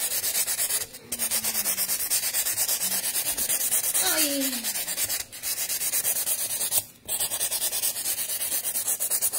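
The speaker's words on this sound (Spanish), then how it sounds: "Voy a lijar ahora acá abajo." Hand sanding of a snowman candy holder, a loud, continuous scratchy rubbing in steady strokes with a few short pauses and a brief exclamation from a voice.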